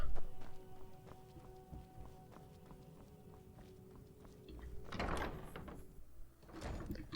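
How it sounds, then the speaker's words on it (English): Skyrim gameplay with a door swinging shut, a dull wooden thud and scrape standing out against light footstep clatter and quiet ambient game sound. "Let's make sure we shut the door behind us."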